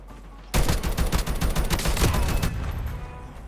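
A BI-15 firing in Call of Duty Mobile: a sudden loud burst of rapid automatic shots, close and sustained for about two seconds before trailing into quieter game noise.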